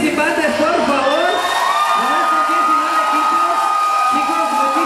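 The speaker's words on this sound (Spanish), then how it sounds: "quiero que se escuche muy fuerte el aplauso a todos los participantes" At a WCS México 2018 awards ceremony, the crowd roars with cheering, whoops and shouting voices over applause, loud and sustained throughout.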